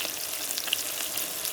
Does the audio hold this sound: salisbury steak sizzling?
yes